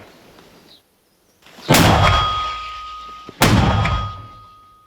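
Two heavy, booming shots from a Ukrainian-made MP-120 120 mm mortar a couple of seconds apart, each a sharp blast with a ringing decay, loud and close.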